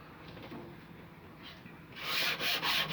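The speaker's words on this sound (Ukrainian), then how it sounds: "зачищаю, тобто шліфую ножиком клиночок" A knife blade made from a bullet is sanded by hand, a soft rubbing rasp that grows into louder, rhythmic abrasive strokes near the end, close and alone.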